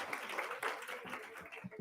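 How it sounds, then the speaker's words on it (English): A conference audience at a youth summit gives a round of applause: a dense, faint and distant patter of many hands clapping that fades near the end. "Another round of applause, please"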